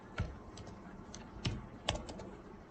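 A handful of quiet keystrokes on a computer keyboard, spaced irregularly over a few seconds, each a crisp close click against a faint background.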